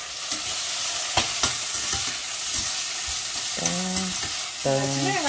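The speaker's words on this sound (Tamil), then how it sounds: "ஓகே இப்போ இந்த மசாலாவில் வந்து நல்லா மிக்ஸ் பண்ணிக்கலாம்" Masala frying in a pan for an eggplant curry is stirred with a utensil, a steady close sizzle carrying scraping strokes. Someone talks briefly over it near the end.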